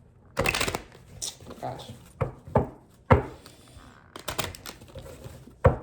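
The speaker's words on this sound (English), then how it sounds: "Please allow these cards to shuffle fluidly." A deck of tarot cards is riffled and shuffled in several loud, close bursts of rapid papery clatter separated by brief pauses, with a single spoken exclamation partway through.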